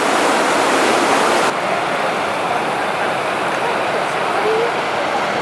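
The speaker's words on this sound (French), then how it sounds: "Après avoir admiré les impressionnantes cascades qui se trouvent en plein cœur de la ville de Banff" Impressive waterfalls in the heart of the town of Banff in the Rockies, a steady broad rushing roar of falling water, close and continuous with no speech.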